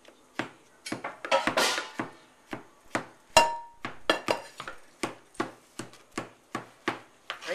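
Chopping minced garlic on a cutting board, a steady series of about a dozen sharp knife knocks at an even rhythm, close and clear with no talk.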